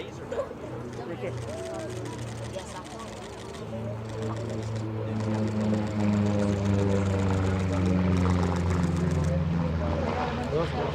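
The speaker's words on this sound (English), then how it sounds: "Your opportunity to see the only flying Republic-built Razorback P-47." A Republic P-47D Thunderbolt Razorback warplane passes overhead at an air show, its deep radial engine drone building steadily louder and rougher over several seconds, heard continuously at a distance.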